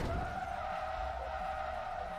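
A race car spins out in Forza Motorsport 2, a sustained tire skid squeal over a low engine rumble, steady and moderately loud with no talk.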